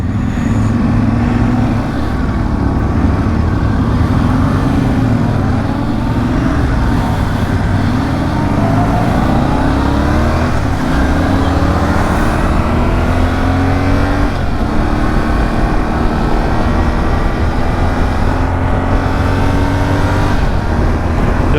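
A Yamaha Tenere 700 two-cylinder adventure motorcycle accelerating hard, its engine note rising steadily through the gears with loud, continuous drone and wind rush, no voices over it.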